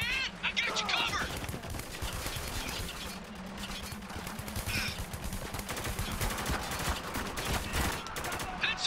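Dense automatic gunfire and bursts of shots from the Spec Ops: The Line video game fill the whole stretch, loud and continuous, with soldiers' shouted voices mixed in.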